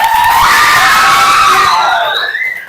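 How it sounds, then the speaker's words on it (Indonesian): Children in an Indonesian classroom cheer and shout loudly for a classmate, a brief burst of high-pitched yelling that rises and then fades. "Tepuk tangan untuk Almira"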